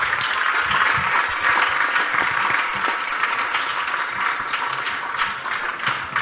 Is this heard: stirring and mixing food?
no